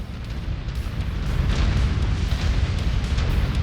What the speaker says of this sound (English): Okay, that guy's blowing up.